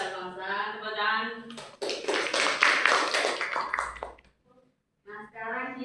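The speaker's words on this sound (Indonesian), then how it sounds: "Tepuk tangan." A classroom of students breaks into a few seconds of lively clapping, framed by a single voice talking just before and after the applause.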